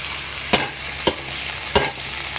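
Live shing fish going into a pan of red-fried potatoes sets off a steady sizzle, with three sharp stirring scrapes of a spatula against the pan.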